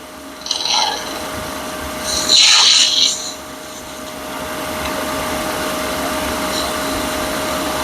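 Scraping with a shear scraper on a surface, heard as short close rasping strokes, one brief and one longer and louder, over a steady low background hum.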